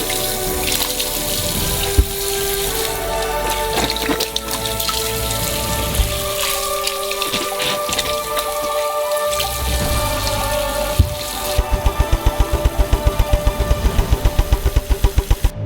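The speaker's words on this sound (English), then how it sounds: "Fill it up with water. And each orange needs to be thoroughly washed." Oranges washed in a sink filled with tap water give a steady wash of running water and splashing. A run of rapid rhythmic knocks comes near the end.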